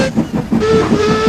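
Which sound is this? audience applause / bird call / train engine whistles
train engine whistles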